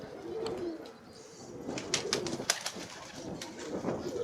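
Hungry pigeons give soft, throaty coos close by, overlapping into a continuous murmur, dotted with a few sharp clicks and flutters.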